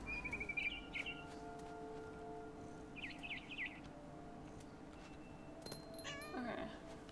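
Cat meows and caterwauls from a player-controlled cat in the video game What Remains of Edith Finch, faint calls against a quiet outdoor ambience with bird chirps and tweets scattered through.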